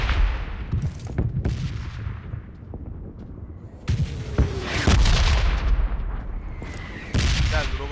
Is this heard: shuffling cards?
no